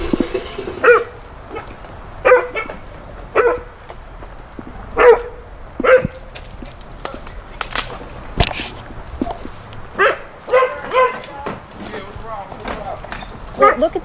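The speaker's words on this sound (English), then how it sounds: "Look at the condition of your dog." A dog barks repeatedly, with loud, close, sharp barks in uneven bursts, with people talking in between.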